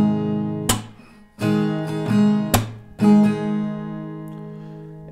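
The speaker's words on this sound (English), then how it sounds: "So that will be down, clap, up, up, down, clap," Acoustic guitar played with a down-clap-up-up strumming pattern for a pop song, strums alternating with sharp percussive claps across all the strings, several loud muted hits over about five seconds, heard alone and close.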